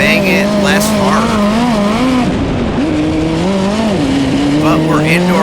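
Loud indoor race cars, including the number 55 car, roaring with wavering engine pitch as they jostle through traffic, tires squealing in sharp bursts, with a voice talking over the engine noise.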